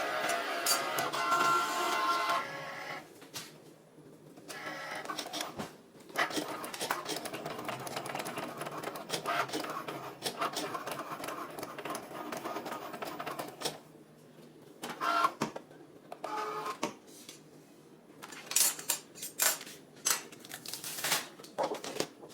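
Cricut cutting machine slicing out a printed cake topper for a 3D cake decoration, a steady mechanical whirring and buzzing of the carriage moving back and forth, with brief pauses and bursts of motor noise throughout.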